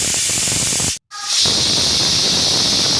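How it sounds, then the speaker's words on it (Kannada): A pressure cooker making mutton biryani hisses loudly as it releases steam, cutting out for a brief moment before the strong steady hiss returns and continues. "3 ವಿಸಿಲ್ ಕೂಗಿಸ್ಕೊಂಡ ನಂತರ ಕುಕ್ಕರ್ ಕ್ಯಾಪ್ನ ಓಪನ್ ಮಾಡಿ"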